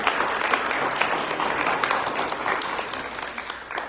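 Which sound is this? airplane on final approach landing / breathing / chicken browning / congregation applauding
congregation applauding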